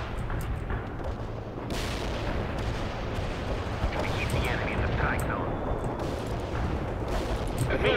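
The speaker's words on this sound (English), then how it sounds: "Launching a barrage." Artillery barrage in the real-time strategy game World in Conflict: a steady rumble of heavy booms and blasts layered with battlefield noise, loud and continuous, with a sharper impact partway through and faint radio chatter beneath.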